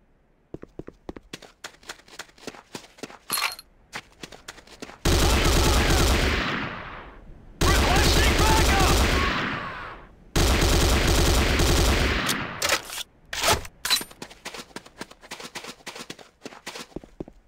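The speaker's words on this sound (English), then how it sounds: "The next weapon is the Corbretti AR-70 Raptor Automatic Rifle." Corbretti AR-70 Raptor automatic rifle from Command & Conquer: Renegade firing three loud sustained bursts, each a couple of seconds long, with scattered single shots and clatter between and after.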